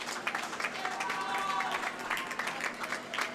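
A crowd cheers and claps at a boys' high school swim meet after a race finish, a steady, fairly distant roar of applause with voices mixed in.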